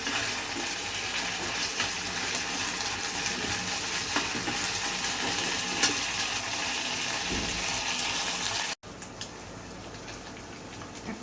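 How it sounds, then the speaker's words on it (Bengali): Onions frying with ginger-garlic paste in a pan give off a steady, soft sizzle that runs without a break, then drops a little quieter after a short cut near the end. "এখন এই পেঁয়াজের ভিতরে আদা রসুন বাটা দিয়ে দেব। এটা একটু ভালো মতো ভুনে নেব"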